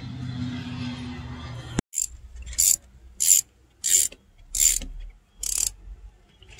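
A battery side post bolt extender on a GM vehicle is tightened with a ratchet, giving six evenly spaced bursts of clicking after a brief low rumble, close and clear with no talk.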